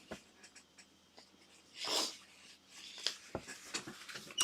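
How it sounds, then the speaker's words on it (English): A person blowing their nose, one loud rushing blast in the middle of an otherwise quiet indoor room, followed by a few smaller sniffs and handling sounds. "I'm not going to make it through the hour without blowing my nose."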